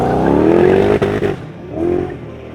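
Car making a handbrake drift run, its engine revving loud and close with rising harmonic whine, then dropping briefly before revving up again.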